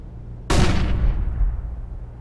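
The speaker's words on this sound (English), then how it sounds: "I'm throwing a flashbang!" A flashbang grenade goes off in Counter-Strike during a pro league match, a single sharp loud bang that rings out and decays over about a second and a half.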